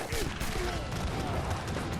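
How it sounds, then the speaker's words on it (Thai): In a battle in the video game Age of Empires III, cannon and musket fire crackle in dense, overlapping bursts. The rattling volleys run without a break under steady game background noise. "เอาแก๊งปืนใหญ่ระดมยิง"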